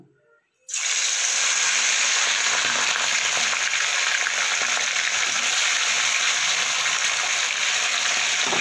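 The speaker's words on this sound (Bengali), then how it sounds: "এবার আমি খয়রা মাছগুলো ভেজে নেব।" Khoyra fish drop into hot oil in a wok with a sudden loud burst of sizzling, then fry in a steady, dense crackling hiss. No voices are heard.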